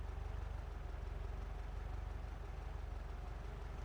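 Volkswagen Brasilia engine idling in BeamNG.drive, a steady low rumble with rapid regular pulsing and small exhaust pops, heard close and continuous with no talk.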